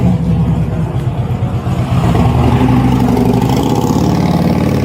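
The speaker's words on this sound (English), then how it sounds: "I had to talk loud because the motorcycle" A motorcycle engine revs loudly and close by, a steady throaty roar that surges and holds without a break outside a pawn shop.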